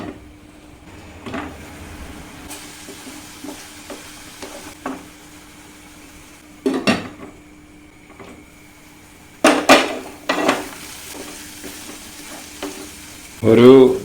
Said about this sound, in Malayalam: ഇടക്കൊക്കെ ഇത് ഒന്ന് പൊക്കിയിട്ട് ഇളക്കി കൊടുക്കണം.